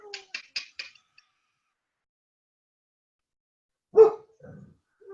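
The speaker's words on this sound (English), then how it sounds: "It's my dog hearing the dog barking at your place." A dog barks in a quick burst of four sharp yaps, then silence, followed by one louder close bark and a softer grumbling sound.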